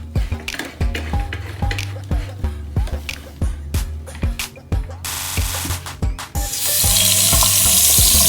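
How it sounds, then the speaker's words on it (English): Water runs from a newly installed bathroom faucet into the sink, starting in splashy bursts with clunks and knocks, then settling into a loud, steady hissing stream near the mic. "So now that I've turned the water on and let that clear out"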